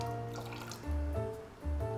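A little water trickles into a blender jar already holding oil for a cabbage, pea and cuttlefish sauté, a faint, brief splashing pour heard alone.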